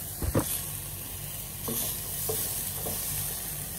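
Chicken pieces sizzle and fry in a hot pan while being sautéed for tinola, a steady close crackle broken by a few stirring scrapes and clinks.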